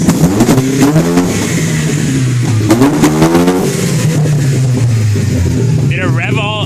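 Mazda RX7 rotary engine revving shortly after a cold start on a new ECU, a loud, steady engine drone with rising and falling rev sweeps, voices talking over it throughout.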